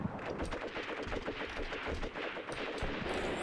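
Gunfire from an unidentified gun in the Graviteam Tactics war game, dense rapid bursts blurring into a continuous distant rattle, low in level and without talk.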